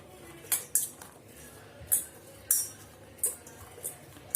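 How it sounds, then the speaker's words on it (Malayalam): Chopped curry leaves being mixed into pakkavada ingredients in a bowl, giving a series of sharp, close scraping and clinking strokes at an irregular rhythm, with quiet pauses between them and no talk. "ഇതൊക്കെ നന്നായിട്ട് ഒന്ന് മിക്സ് ചെയ്ത് കൊടുക്കുക."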